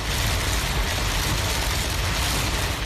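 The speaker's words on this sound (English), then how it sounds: "the rain blinding" Heavy storm rain pours over Sydney roads during flooding, a dense, steady roar of rainfall mixed with low rumbling that stays loud and unbroken throughout, with no voices.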